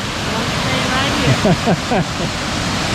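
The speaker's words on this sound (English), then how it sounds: "Here we go, top of the Diamond Notch Falls" Diamond Notch Falls in the Catskill Mountains rushes in a loud, steady roar of falling water, heard up close from the top of the falls, with a voice briefly talking over it.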